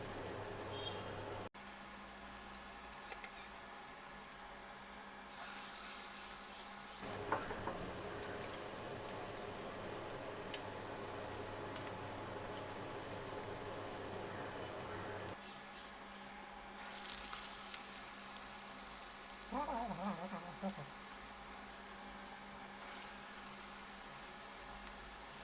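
Urad dal vada batter dropped into hot oil for crispy ulundu vadai, a steady close bubbling sizzle running throughout with no talk, shifting a little as pieces are added around 7 and 15 seconds.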